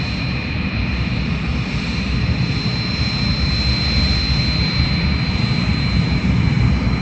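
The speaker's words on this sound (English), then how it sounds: "here we are being blessed with the U.S. Air Force weather planes" Engines of U.S. Air Force weather reconnaissance planes on the ground at a local airport, a steady, loud jet roar holding throughout with a constant high whine over it and no talk.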